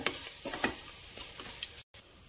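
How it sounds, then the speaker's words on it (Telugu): Turmeric, chili powder, garam masala and salt fry in a tempering of hot oil, giving a close, steady sizzle with light stirring scrapes and a brief dropout near the end. "ఇందులో పసుపు, కారం, గరం మసాలా, రుచికి సరిపోయే సాల్ట్ వీటిని కాస్త వేగనివ్వాలి"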